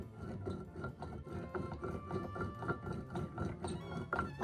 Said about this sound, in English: a stone grinder. It's obviously a smaller version than what was used back in biblical times.